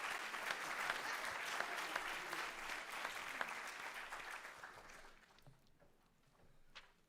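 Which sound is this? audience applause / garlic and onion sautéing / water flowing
audience applause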